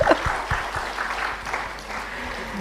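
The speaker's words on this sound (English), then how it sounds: "if I'll have a round of applause" Applause from the audience at a plenary session of an international sustainability education conference, a steady wash of clapping from a crowd in the hall for the full few seconds.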